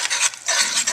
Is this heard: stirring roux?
yes